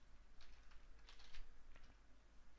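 Keys tap on a computer keyboard in a few quick, faint bursts over a low steady hum, nearby and quiet.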